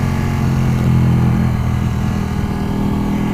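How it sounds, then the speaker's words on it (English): A Ducati Panigale 1199R superbike fitted with a Termignoni slip-on exhaust rumbles steadily and loudly up close, a deep, thick engine note with a slight swell in the first second, then holding an even throb. "it sounds great as well with this Terminione slip-on exhaust system."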